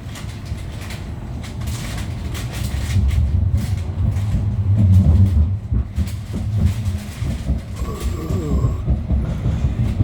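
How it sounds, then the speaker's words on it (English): An Edinburgh tram bound for Newhaven rolls along its rails with a steady low rumble that swells in the middle, then a brief higher squeal near the end; no talking. "This tram is for Newhaven."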